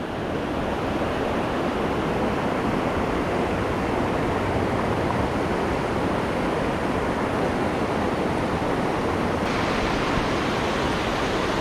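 A waterfall at a shoal bass fishing spot pours in a steady, dense roar of rushing water, continuous and fairly loud throughout with no voices.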